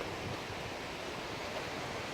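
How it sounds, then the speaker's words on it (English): Steady broadband wash of ocean surf at Swami's surf break, heard from a clifftop viewpoint, a constant even roar with faint wind and no distinct breaking crashes. "We're out here checking the waves at Swami's from this beautiful viewpoint up here."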